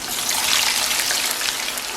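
Raw potato fries dropped into hot oil as a first batch, giving a steady, close, even hiss and crackle of bubbling oil with no pauses and no voices.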